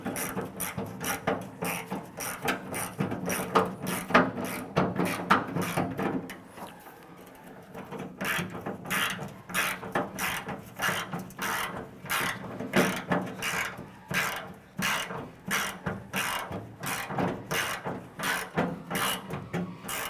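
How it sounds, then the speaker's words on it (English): A ratchet snugs nuts down on a 1993-1997 Ford Ranger tailgate handle, giving rapid, steady clicking strokes in quick bursts with a brief pause partway through, close and fairly quiet, with no talking. "At this point here, we can go ahead and snug those nuts down into place."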